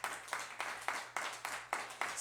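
A church congregation claps together in a steady rhythm, roughly eight evenly spaced beats, heard at a moderate distance and fairly quiet in the room.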